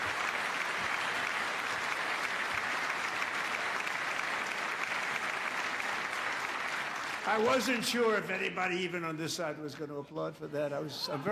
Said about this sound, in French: Je ne sais pas si de ce côté-là on allait applaudir